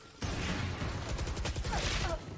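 Rapid bursts of gunfire in a Valorant match during a grand final between Team Brax and Gen.G, dense overlapping shots lasting about two seconds under faint commentary.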